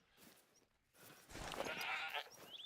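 A sheep bleating in the hunting game theHunter: Call of the Wild, a single wavering, nasal bleat rising out of quiet outdoor ambience and holding for about a second before fading.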